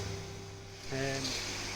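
Water runs and splashes steadily during a 10% water change on an aquarium with a drum filter, a continuous rushing wash that grows slightly louder partway through, with no talking.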